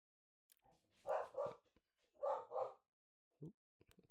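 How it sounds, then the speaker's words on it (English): A pet dog barks indoors in two quick double bursts, then gives a short lower yip, fairly close but not very loud, with a few small clicks around it and no talk. "she's probably barking at the other dogs that are walking by"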